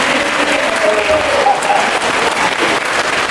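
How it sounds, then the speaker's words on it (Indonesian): Applause at a school event in Turen, where a crowd claps loudly and steadily for several seconds as a dense wash of hand claps that fills the room. "Tepuk tangan untuk sekali lagi"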